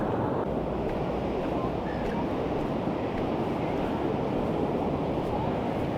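Strong coastal wind buffets the microphone at the Gibson Steps cliffs, a steady loud roar that holds without a break from start to finish.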